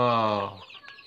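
A single short cluck from a chicken, close and clear, trailing off into quiet.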